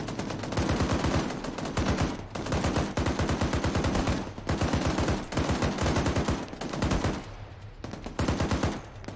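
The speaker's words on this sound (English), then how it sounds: "Shots left side." Repeated bursts of automatic gunfire from the Arma 3 military shooter game in a desert setting, rapid loud volleys with short gaps between them, dense and continuous across the clip.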